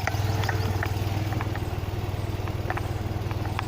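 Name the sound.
Tata Nano car engine running before being switched off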